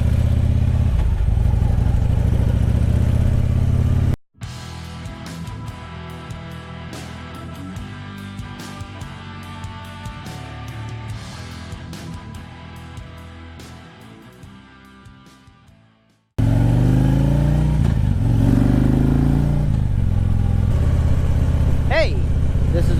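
Motorcycle engine running steadily while riding, close and fairly loud with wind buffeting, cutting out briefly and dropping away before returning at full level.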